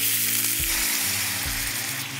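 Duck breast with orange zest searing in a pan, a loud continuous sizzle and crackle of frying fat with a few low knocks as the meat shifts, no voices.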